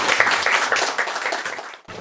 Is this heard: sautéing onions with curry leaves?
no